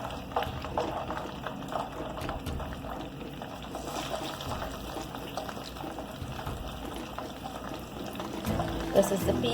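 Chicken pieces coated in National brand broast seasoning fry in hot oil with a steady, bubbling sizzle and crackle. It runs continuously at a moderate, fairly soft level and grows a little louder near the end.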